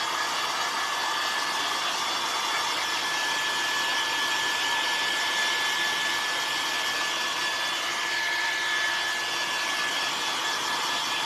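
A hair dryer blows steadily and loudly at close range over wet gray paint on a barn-wood pumpkin, a continuous whooshing roar with a faint motor whine that holds even throughout, with no voices.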